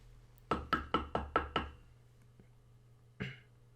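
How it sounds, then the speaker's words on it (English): Knuckles rap a door six times in a quick, even run, then once more after a short pause, each knock sharp and close in a quiet room. "He knocks on the door."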